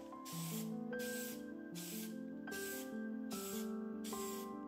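Medium walnut toner is sprayed onto a wooden dresser in a series of about six evenly spaced hissing bursts, steady and moderately loud, over background music.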